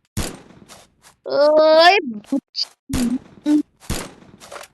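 Cobra MP40 submachine gun fire in a video game, a fast rattling burst of about three quarters of a second in the middle, between short spoken exclamations and a few thumps.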